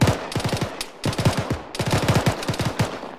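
Machine gun fire in the video game Arma, with a 249 in a ShackTac squad battle: rapid, loud bursts of automatic shots in three tight strings with short gaps, close and sharp.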